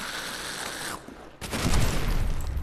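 A frag grenade detonates in a custom zombies video game: a sustained rattle of gunfire breaks off and is followed by a loud, heavy blast that rumbles on to the end.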